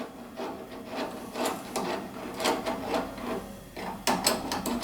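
A wrench turns and snugs 3/8 bolts during a machine setup, giving a series of short rasping, ratcheting strokes in an irregular rhythm, close and fairly loud, with no talk.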